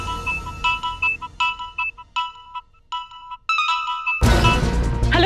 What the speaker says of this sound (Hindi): पूरे शहर के प्रेस वालों के फोन आ रहे हैं।